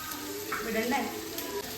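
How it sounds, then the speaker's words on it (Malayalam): Sliced onion with cinnamon and cloves sizzles in oil for a vegetable biryani, a close, steady frying hiss broken by soft stirring scrapes. "ഇതില് പട്ട ഗ്രാമ്പു അങ്ങനത്തെ സാധനങ്ങൾ ഇട്ടു സവാള ഇട്ടു വേറെ ഒന്നുമില്ല ഇത് നല്ലപോലെ ഒന്ന് മൂത്ത്"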